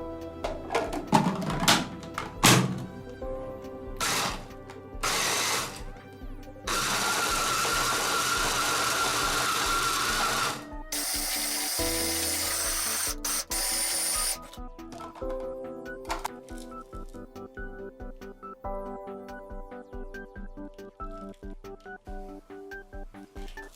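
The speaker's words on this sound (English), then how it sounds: "Shred the ingredients with a blender." A blender motor whirs loudly in two sustained runs of several seconds, shredding oats and cornflakes, with clattering and tapping before and after.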